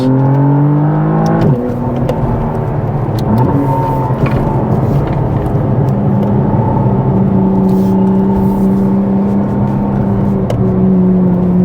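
McLaren Artura with a 3.0-litre twin-turbo engine driving on the Genting road, a steady engine drone heard from the cabin that rises, drops at a gear change, then settles into an even cruise over constant road noise.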